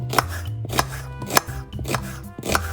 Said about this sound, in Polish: Cebulę w pół plasterki kroimy.